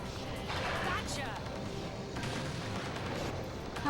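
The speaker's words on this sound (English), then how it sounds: "so much nicer with the homing cannon" A homing cannon fires during a boat-defense battle in Beyond Good and Evil, its repeated booming blasts blending with dense game music and effects over the whole stretch.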